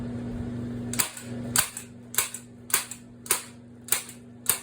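A staple gun fires staples through tape into duct insulation in six sharp, evenly spaced snaps about 0.6 seconds apart, close and loud over a steady low hum.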